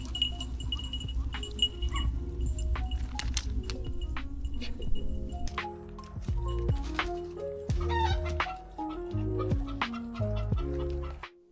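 Hens cluck and chatter in a coop, steady low clucking with scattered sharper calls and some clinking and rustling nearby.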